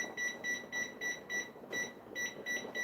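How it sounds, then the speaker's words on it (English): A kitchen timer, set while chicken parmesan cooks on the stove, gives faint, evenly spaced high electronic beeps in a steady rhythm over a quiet room. "So we'll set the timer here for,"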